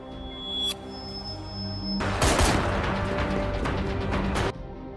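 Rapid gunfire from a film scene with a sniper, a dense burst of loud shots lasting a few seconds after a tense musical tone, then cutting off abruptly.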